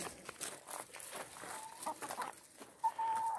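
Chickens on a rural property cluck softly amid low farmyard noise, with a few thin, drawn-out calls rising near the end.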